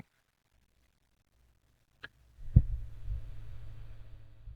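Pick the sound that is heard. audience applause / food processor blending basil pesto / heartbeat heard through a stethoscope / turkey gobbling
heartbeat heard through a stethoscope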